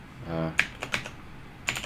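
Computer keyboard keys being pressed, a few sharp separate clicks spaced irregularly over a quiet background, close by, after a short murmur from a voice.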